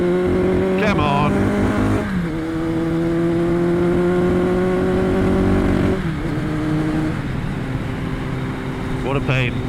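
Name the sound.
1999 Kawasaki ZRX1100 motorcycle engine running poorly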